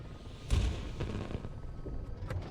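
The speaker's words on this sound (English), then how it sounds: "Those fireworks do look good, don't they?" Fireworks in the video game Elite Dangerous go off as a few dull, distant booms and thuds, one louder burst early, then scattered softer pops over a rumbling background.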